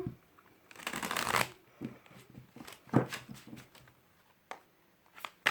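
Tarot cards shuffled by hand for a reading, a close, crisp riffle followed by scattered softer slides and taps of cards, with no talking.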